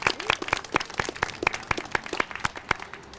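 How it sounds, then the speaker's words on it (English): A small group at an Arbor Day event claps in brisk, evenly spaced hand claps, fairly close, with no voices over it. "let's give a round of applause for that"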